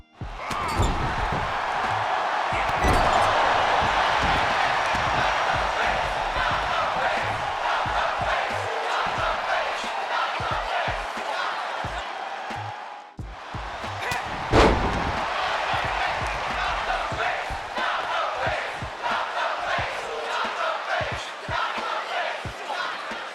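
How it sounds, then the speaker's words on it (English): An arena crowd in the WWE 2K22 wrestling video game chants a rhythmic 'Not the Face' call, a dense, loud roar of voices with sharp impacts and slams breaking through a steady wall of crowd noise. "which is specific to certain superstars, is the Not the Face chant"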